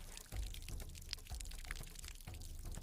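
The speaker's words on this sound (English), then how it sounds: "Go and hunt for leak and save the precious water in your community." Water leaking from a pipe gives a soft, continuous hiss and trickle with faint irregular thumps, quiet and steady, with no speech.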